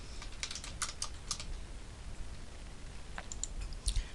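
Computer keyboard typing in short bursts of key clicks with a few mouse clicks, quiet and close, with no voice.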